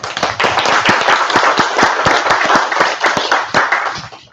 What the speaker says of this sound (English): round of applause for Zach